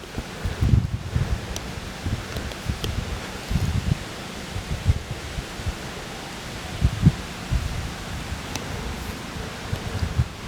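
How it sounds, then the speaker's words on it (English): Strong wind gusts buffet the microphone during a turkey hunt, irregular low thumps and rushes with leaves rustling throughout; no one speaks. "this wind is absolutely freaking ripping"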